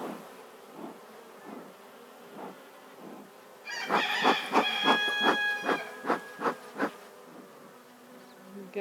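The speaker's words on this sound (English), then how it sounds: "So I got some bees clustering here." Honey bees buzz around a hive, a soft hum at first, then a louder stretch of rapid, pulsing buzzes as insects pass close by.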